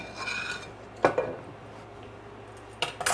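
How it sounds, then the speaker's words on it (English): Metal utensils scrape and clink against a pot while cooked spaghetti is lifted out of a black pot into a silver one, with two brief clatters standing out over quiet kitchen rustling. "I want to pick this spaghetti up out of this black pot and put it in a silver pot"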